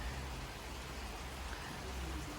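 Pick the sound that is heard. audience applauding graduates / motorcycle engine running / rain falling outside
rain falling outside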